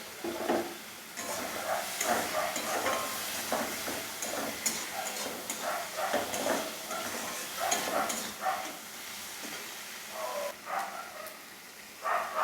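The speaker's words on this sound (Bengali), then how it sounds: "তো বন্ধুরা মশলাটা আমার ভালো মতো কষানো হয়ে গেছে এবার আমি চিংড়িগুলোকে দিয়ে দিচ্ছি" Prawns fry in a thick spiced masala in a pan, an uneven close sizzle broken by frequent scraping and stirring clatter, rising and falling throughout.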